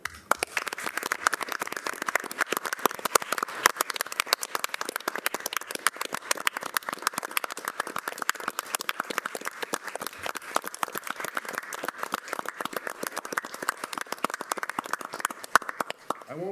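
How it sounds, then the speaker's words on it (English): Sustained applause from an audience at a city council meeting honoring a police officer, dense steady clapping that fills the room for the whole stretch. "maybe you could give him a round of applause if you so see fit"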